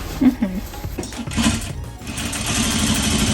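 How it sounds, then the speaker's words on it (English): A sewing machine stitches a skirt seam on a thrifted garment, starting after a moment of clatter and handling noise and then running as a steady, fairly loud mechanical whir for the rest of the clip. "We're sewing on the skirt."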